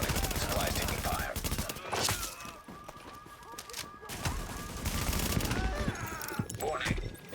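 Gunfire from hostiles attacking supplies in the shooter The Division, scattered shots and bursts mixed with other combat noise throughout, with a voice speaking over it at times.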